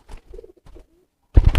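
A domestic pigeon, held for fitness training, gives a few soft, close coos, followed by a sudden louder rustling burst at the end.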